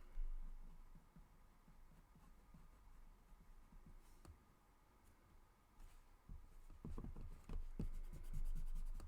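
A Spectrum Noir Aqua marker scratches softly across paper in faint, close strokes, quickening into denser scribbling near the end over a low background hum.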